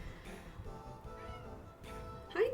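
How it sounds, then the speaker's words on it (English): A pet cat gives faint meows amid quiet room noise, with a louder, rising meow right at the end. "I have cats."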